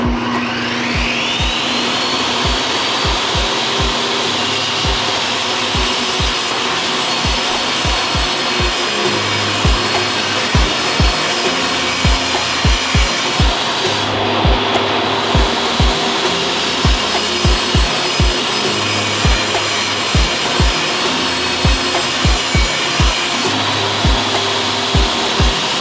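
A power saw cuts cedar picket boards into pieces, its steady motor whir carrying a repeated series of short, sharp cutting knocks through the whole stretch.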